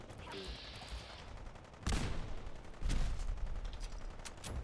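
Gunfire during a Fallout 4 firefight, two sharp loud shots ringing out a second apart over a steady background of game ambience, with faint crackling before them.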